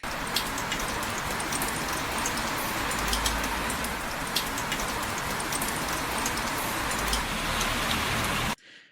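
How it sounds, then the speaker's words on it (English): Rain sample played back in Sonic Pi as part of a cyberpunk soundscape: a steady, dense hiss of rainfall with scattered drop ticks, loud and unbroken for about eight and a half seconds before cutting off abruptly. "We'll throw the rainy sound in."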